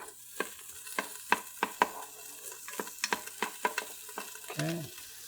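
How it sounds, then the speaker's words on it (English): Pancetta frying in a preheated Ninja Foodi, stirred with a utensil that scrapes and taps the pot in a string of sharp knocks over a soft sizzle, close and fairly quiet. "So we're going to get this pancetta in here, get it all in there. We're going to render it out a little bit."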